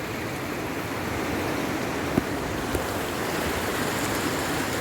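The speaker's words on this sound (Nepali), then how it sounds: "छेउमा शारदा खोला छ" The Sharda river flows beside a ripening rice paddy, a steady broadband rush of water with no voices, holding even throughout apart from two faint brief knocks.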